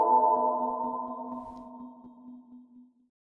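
Data sonified into musical notes in VCV Rack rings out as a single harmonic electronic tone that decays smoothly over about three seconds and plays alone.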